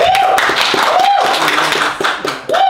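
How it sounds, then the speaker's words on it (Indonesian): A small audience clapping in a university room during a lecturer introduction, irregular claps mixed with a rising whistle-like tone, under background speech. "Boleh tepuk tangan semuanya?"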